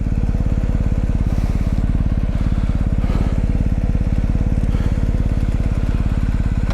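A big adventure motorcycle crawls along a rough dirt track in first gear, its engine pulsing in a steady, low, close-up thump with faint clatter and no talking.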